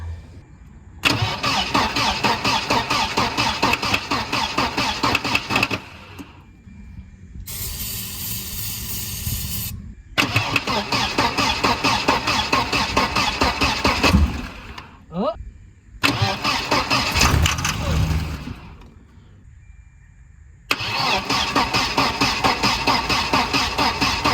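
A 1992 Volvo 940 wagon engine cranks over in several long bursts of several seconds each, separated by pauses, loud and close, without catching. People talk in between.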